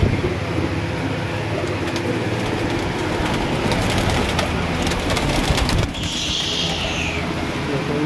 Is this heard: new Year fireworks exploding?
no